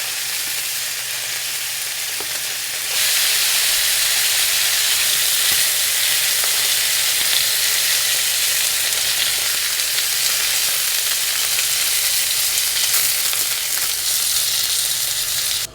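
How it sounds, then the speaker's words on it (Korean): Beef sears in a pan over high heat with a loud, steady sizzle that runs unbroken for several seconds after a quieter start, with no talk. "센 불에서 소고기를 빨리 익혀줘요."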